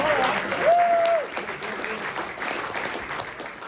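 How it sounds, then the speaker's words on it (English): Audience applause at a gala launch and ribbon-cutting event greets a THX vice president: a dense, steady wash of many hands clapping, loudest at the start and then settling at a slightly lower level, with a brief whistle-like tone early on. "Give him a round of applause, yes?"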